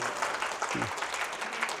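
Audience applause breaks out at a Korean real-estate redevelopment briefing, a brief, steady patter of many hands clapping at moderate volume, with a short low vocal sound partway through.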